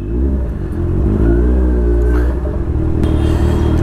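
A Kawasaki Z1000 motorcycle with a 1000 cc engine and loud exhaust rumbles deep and close while riding, its low throb steady and swelling slightly as it revs.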